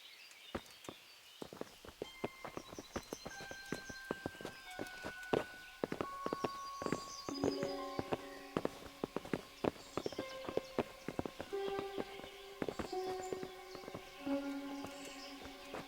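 Horse hooves clip-clop steadily in the medieval game Kingdom Come: Deliverance, a brisk run of sharp hoof strikes over sustained music and ambient sound.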